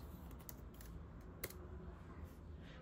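Light typing on a Mac computer keyboard, a quiet run of soft, irregular key clicks with one slightly sharper tap midway, heard close and alone.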